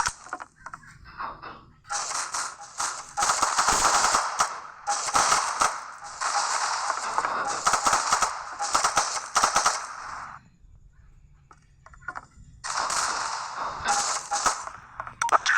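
Bursts of automatic gunfire from the video game GTA San Andreas, several rapid volleys with short pauses between them, loud and close, plus a quieter gap before the shooting resumes.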